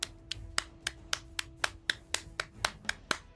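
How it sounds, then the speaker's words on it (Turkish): A steady round of applause in the Age of History 2 game commentary, a dozen or so sharp claps at an even pace, fairly close and with no talking. "Bu kadar alkış yeter"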